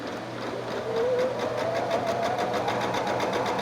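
A sewing machine stitches a quilt seam in a steady, rapid mechanical run of fast even pulses, close and continuous, with no talking over it.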